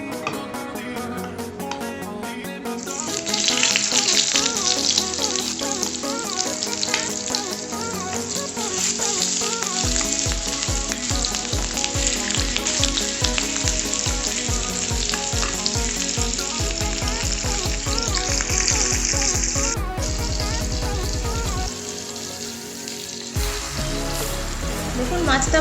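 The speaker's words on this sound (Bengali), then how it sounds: "তেল গরম হয়ে গেছে, এবার আমি মাছটা দিয়ে দিচ্ছি।" Pieces of rohu fish frying in hot oil make a loud, dense crackling sizzle. It builds in after a quiet first few seconds and holds steady throughout.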